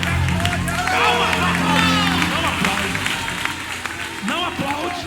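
A church congregation claps and stirs as a loud crowd, with a voice speaking and calling out over the applause throughout.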